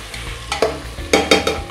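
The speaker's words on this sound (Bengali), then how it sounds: "এবার পেঁয়াজটা একটু ভালো করে তেলে নেড়ে দেব।" Washed onions fried in oil for a spicy Bengali mutton kosha are stirred in the pan, with several loud scraping strokes over a constant close sizzle.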